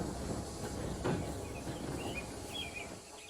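Steam engine pulling out of a station, a low rumbling chug with a brief puff of steam, faint birdsong and light hiss over a steady railway background.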